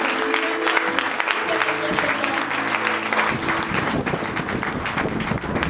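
A church congregation applauding to acclaim the Lord during a morning service, loud sustained clapping from a crowd filling the room, with a low musical tone fading under it in the first half.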